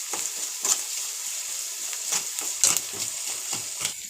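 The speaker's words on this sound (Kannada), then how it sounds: "ನೋಡಿ, ಇವಾಗ ಈರುಳ್ಳಿ ಎಲ್ಲ ಫ್ರೈ ಆಗಿದೆ." Onions frying in a pan with salt for a village-style bassaru give off a steady close sizzle, punctuated every second or so by the scrape and clatter of a stirring spoon.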